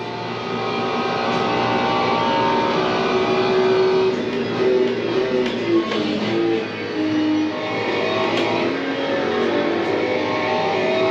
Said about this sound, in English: It seems to rev up faster too.